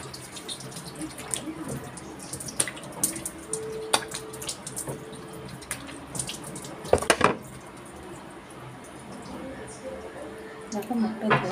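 Tap water runs into a sink while a face is washed, with soft uneven splashing and scattered louder slaps of water, fairly quiet and close.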